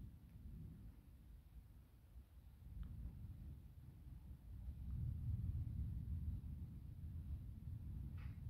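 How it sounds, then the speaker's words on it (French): Distant thunder from a nighttime electrical thunderstorm rumbles low and long, swelling and fading in waves across the clip, with no voices. "Des orages forts, localement violents, avec forte pluie et chute de grêle."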